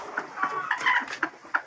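Free-range village chickens cluck in short, repeated bursts close by, several birds calling over a quiet background.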